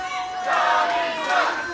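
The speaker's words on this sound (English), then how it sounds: "This crowd that used to always be for Tommy Okami is now chanting, Tommy sucks." A wrestling video game crowd chanting loudly in unison, a dense swelling roar of many voices with a rhythmic rise and fall, heard alone without commentary.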